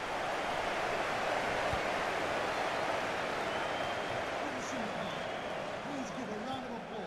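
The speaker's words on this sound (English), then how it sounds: "Please give a round of applause for today's man of the match." Broad, steady stadium crowd applause in a football video game fills a large space for several seconds, a continuous roar of clapping with a voice faintly underneath.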